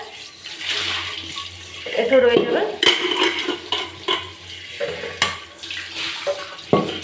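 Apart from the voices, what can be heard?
tap water running while scrubbing a pot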